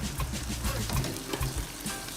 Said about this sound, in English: we have it boiling